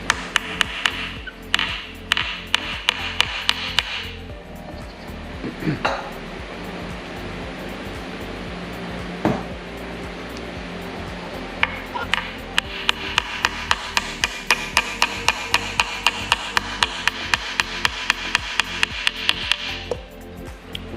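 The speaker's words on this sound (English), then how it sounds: "Used a brass hammer because I didn't want to mess up the tip of this thing." Rapid, sharp metallic brass hammer taps ring out in bursts while pressing in a fitting on a Chevrolet Squarebody truck, with a few heavier single strikes in between, close by and fairly loud.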